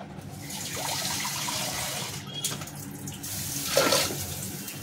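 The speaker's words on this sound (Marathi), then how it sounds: "पूर्णपणे अशी सफेद पाणी निघून जातं डाळीचं, व्यवस्थित साफ होती डाळ" Water splashes and runs steadily as lentils are washed in a kitchen, with a louder swirl of water near the end.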